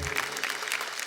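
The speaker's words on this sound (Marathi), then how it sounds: "एकदा जोरदार टाळ्या होऊन जाऊ दे" Brief burst of audience applause at a Marathi women's game show, a dense patter of many hands clapping at moderate loudness without speech.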